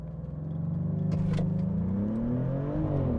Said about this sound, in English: Press full brake, it says, apply full throttle.